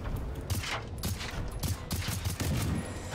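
Rapid bursts of gunfire in the video game Generation Zero, with several volleys of sharp shots in quick succession over a few seconds, loud and close, as a fight with a harvester machine rages on.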